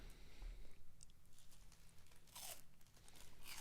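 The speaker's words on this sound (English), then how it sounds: "Get that crunch on the microphone." Crunchy peanut butter snack cake bitten and chewed close to a microphone, with several loud crisp crunches, a burst near the start and a louder cluster toward the end, no talking.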